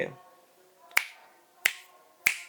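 Three sharp finger snaps, close and crisp, spaced roughly a second apart, with a faint voice at the very start.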